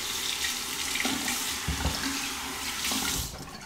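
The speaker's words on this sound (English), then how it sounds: "Quick rinse," An Edwin Jagger safety razor rinsed under a running tap, a steady close hiss of flowing water with a few brief splashes and knocks as the blade passes through the stream, no talking.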